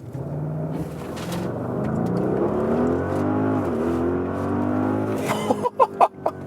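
An Audi RS Q8 in RS mode accelerates hard uphill, its engine note climbing steadily and loud from inside the car, then the revs drop and a few short thumps and clicks close the run.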